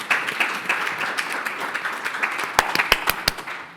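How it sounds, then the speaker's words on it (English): Audience applause at a cyber risk and board oversight talk, a steady dense wash of many hands clapping that swells near the end with a few sharp, louder individual claps. "You guys give yourselves a round of applause."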